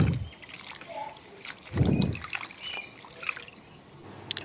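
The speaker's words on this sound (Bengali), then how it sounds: "এবার এই পাতাগুলো ভালো করে পরিষ্কার করে নিতে হবে ধুয়ে।" Bitter gourd leaves washed by hand in a bucket of water, giving intermittent close sloshing and splashing bursts with soft trickles and drips between them.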